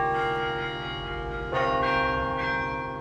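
Carillon bells on Century Tower at the University of Florida ring out a melody, The Sofa Shop, with sustained overlapping tones and new strikes layering over the ringing decay, fairly loud and unaccompanied by talk.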